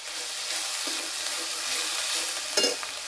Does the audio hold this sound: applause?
no